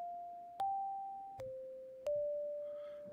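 Empress ZOIA synth pedal pinged resonant filter percussion at high resonance: three sharp clicky hits, each ringing out as a clear bell-like tone that slowly decays, pitch shifting slightly with each strike.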